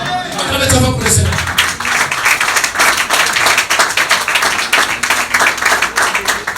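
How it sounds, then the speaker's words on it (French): A church congregation claps loudly and steadily for the Lord during a sermon, dense close applause with some shouts at the start. "Acclamez très fort pour le Seigneur."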